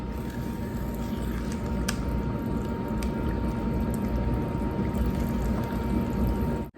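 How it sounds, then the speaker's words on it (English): Very runny German chocolate cake batter, thinned with boiling water, being stirred by hand in a bowl, giving a steady, close wet sloshing and squishing with a few light clinks and no talk. "you want to stir this in by hand. Your batter will be extremely liquidy."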